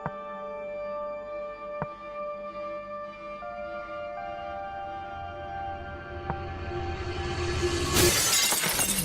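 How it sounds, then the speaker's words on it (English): A stick strikes a mirror and the glass shatters, preceded by a few faint tonal hits and low rumbling, then a loud bright crash near the end as the glass breaks apart. "you should have your glass shattering effect"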